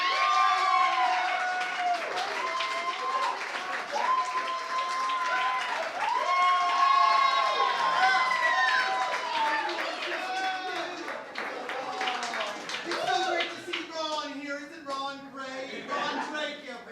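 An audience at a live comedy roast claps and cheers in a sustained burst, while a voice talks over the applause and a short bit of music comes in near the end.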